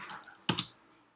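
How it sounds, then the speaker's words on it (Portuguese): Computer keyboard typing, a quick burst of two or three close, crisp key clicks over a quiet room, with faint background hum. "Deixa eu digitar aqui"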